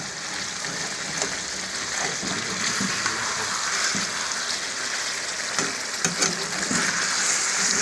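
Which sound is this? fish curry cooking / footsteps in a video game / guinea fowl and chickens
fish curry cooking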